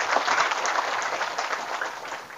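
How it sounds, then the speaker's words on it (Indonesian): Listeners at a religious talk give a short round of applause, a soft, fairly distant patter of many hands lasting a couple of seconds and fading slightly toward the end. "Tepuk tangan dulu."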